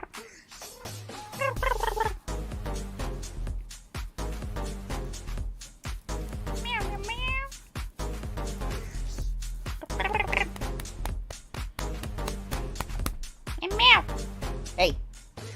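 A pet cat purrs with a low, continuous rumble and gives a couple of rising meows, close to the microphone, while a person talks over it on and off.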